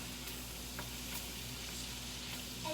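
Butter sizzles in a gumbo pot, a faint, steady hiss and crackle under a low background hum, with no talking.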